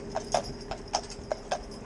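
Hooves of Lilly, a Shire horse, clopping on a hard surface at a slow walk, six distinct hoof strikes spaced evenly and close by, with a faint steady background hum.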